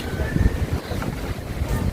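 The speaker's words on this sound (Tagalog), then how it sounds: "lakas ng hangin" Strong wind roars against the microphone outdoors near moringa trees, a steady low buffeting rumble that lasts the whole moment.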